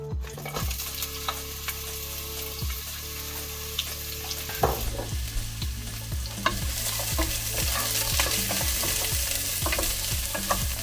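Steady sizzle of squid and potatoes frying in a pan, with repeated scraping and stirring strokes that quicken in the second half; close and fairly loud, no voices.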